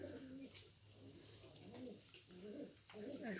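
Kayseri tumbler pigeons coo in soft, repeated throaty phrases close by, with light rustling and faint chirps around them and no speech.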